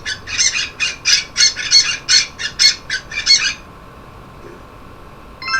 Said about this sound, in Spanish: loro